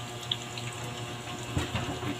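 Water runs steadily from a kitchen tap while lunch is being cooked, a close, constant hissing flow with a couple of small clinks.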